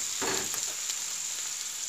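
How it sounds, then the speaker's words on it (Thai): Yellow mushrooms being stir-fried in a pan with holy basil and fresh shrimp, giving a soft steady sizzle with a brief burst of stirring near the start and no talk. "ผัดใส่เห็ดเหลืองลงไปนี่เนาะค่ะ"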